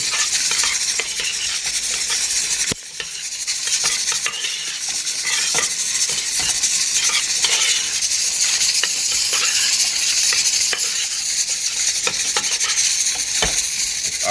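Spoon stirring and scraping through a dish with herbs and butter in a pan, sharp metallic clicks and scrapes repeating over a steady bright sizzle, close and alone without talk.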